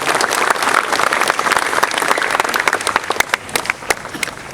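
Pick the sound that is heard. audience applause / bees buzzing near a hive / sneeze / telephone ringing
audience applause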